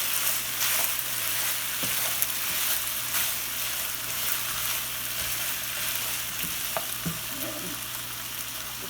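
Red onions and peppers frying in a pan, a steady close sizzle with occasional stirring knocks and scrapes.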